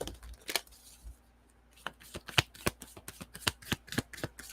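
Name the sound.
shuffling Moonology oracle cards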